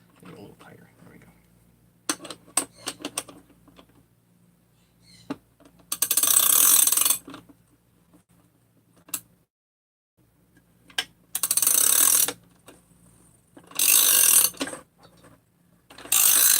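A tool is cranked down while working on a Husqvarna 372XP chainsaw: bursts of ratcheting clicks and metallic clatter come in several loud, separated spells, with quieter handling noises between them.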